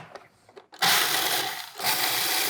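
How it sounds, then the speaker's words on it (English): Food processor grinding almonds, a few short taps and pulses followed by a loud, continuous whirring grind that briefly dips and then resumes. "I'm going to grind this up a little bit first."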